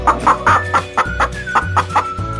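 Chicken clucking in a steady, repeated rhythm of short, close clucks, about ten in a row, heard alone with no talk.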